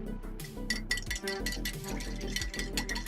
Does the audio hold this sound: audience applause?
no